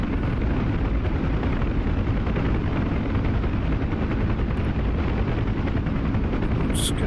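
Helicopter cannon fire in the DCS flight simulator game, a dense continuous roar of rotor and rapid gunfire sustained loudly throughout, with no talking.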